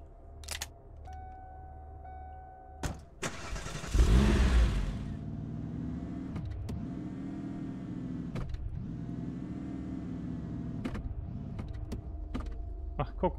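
In the video game Invasion 2037, a car door clunks and then the engine starts with a loud whoosh. The engine then hums steadily and revs up and down several times as the car is moved a short distance.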